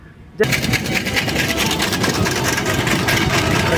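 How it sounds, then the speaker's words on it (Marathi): A vehicle with one wheel missing rolls past close by, a loud, steady rattling rumble full of rapid thudding pulses that starts abruptly after a brief quiet moment. "आता जी गाडी गेली त्या गाडीला एक चाकच नाहीये, तरी चालू आहे ते ढक ढक ढक ढक ढक ढक"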